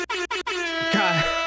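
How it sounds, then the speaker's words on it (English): An air horn sound effect played over a Discord voice chat, a loud blaring blast cut into three short stutters before sliding into one long sustained honk. "When did they add an air horn to the game?"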